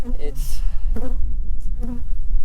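Honey bees buzz near a beehive, loud close passes rising and fading in short bursts as insects fly by the microphone.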